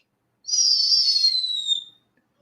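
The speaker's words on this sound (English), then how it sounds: "This is what owls sound like." An owl gives a single clear, high whistled call lasting just over a second, rising slightly then gliding downward before fading, loud and isolated against silence.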